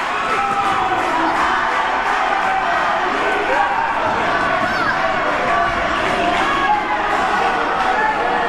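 Football crowd at a local league cup final between Liga Sancaetanense and C.A.T.S. roars and cheers continuously, a dense, loud wash of many voices with shouting and talk mixed in throughout.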